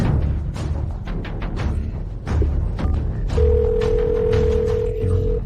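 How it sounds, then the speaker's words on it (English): A telephone rings unanswered, its steady tone sounding over a busy, cluttered background of thumps and noise. "This Dragon Marshal isn't answering the phone either."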